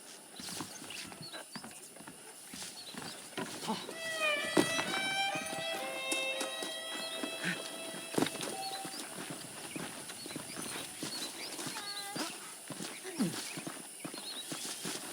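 Horse hooves clip-clop steadily over ground in the video game Red Dead Redemption while a horse whinnies loudly partway through, with faint outdoor ambience around.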